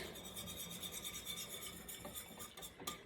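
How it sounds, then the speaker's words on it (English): A whisk stirs canned pumpkin into coffee syrup in a bowl, giving soft, continuous rubbing and scraping with a quick repeated rhythm and a couple of light clinks, faint and close. "whisk that pumpkin in"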